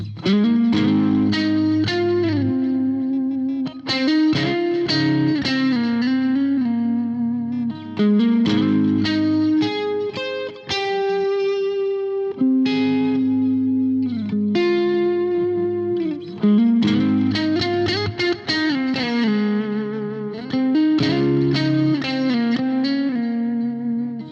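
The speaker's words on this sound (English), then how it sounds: "I am using an analog and a tape delay" Electric guitar through a BOSS GT-1000 using analog and tape delay, playing a slow melodic line, notes repeating and trailing off in echoes, with a warm, sustained, slightly distorted tone.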